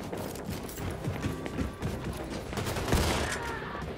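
Shotgun blasts and other gunfire ring out in the first-person shooter Wolfenstein II amid busy, dense game action, with rapid bursts and a sharper crack near the end.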